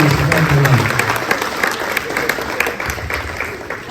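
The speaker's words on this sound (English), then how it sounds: "Big round of applause today." A crowd applauds outdoors at a mental health awareness walk, a burst of clapping near the microphone that gradually thins out, with a little voice mixed in.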